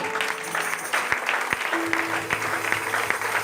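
A church congregation applauding loudly and continuously after a prayer, dense clapping filling the room at a fair distance.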